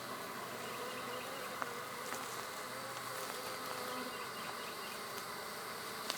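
A dense, steady buzz of honeybees swarming around an open hive during a frame-by-frame inspection, with faint clicks and knocks from handling the frames.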